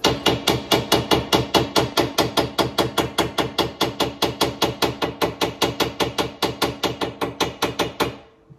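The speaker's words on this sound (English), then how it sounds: "I hear him tapping back" Metal pipe tapped from elsewhere in a building near Navien water heaters, a fast steady train of about thirty sharp, evenly spaced knocks, fairly loud and clear with no talk, stopping abruptly near the end.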